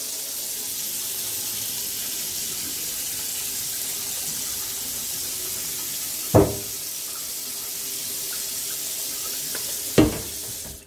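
Cooking water pours from a pot into a sink in a steady, even rush, broken by two sharp clanks of metal, one midway and one near the end, with no voices.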